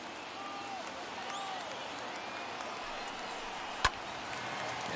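Stadium crowd noise from the baseball video game MLB The Show 21, a distant, steady roar of thousands of fans rising with faint whistles and calls, a commentator talking over it and a sharp crack partway through.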